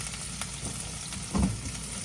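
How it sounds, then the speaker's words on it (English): Steady sizzling of peppers and onions sautéing in a hot pan, a constant close hiss with a brief louder crackle partway through. "we're just gonna let them saute"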